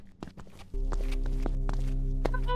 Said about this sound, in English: Can you hear that footsteps?